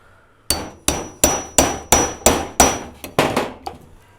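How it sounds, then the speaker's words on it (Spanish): A hammer striking a chisel to cut out the coils of an electric motor stator: ten sharp metallic clangs at a steady, quick rhythm, each ringing briefly, close and loud with no talking. "utilizando el cincel"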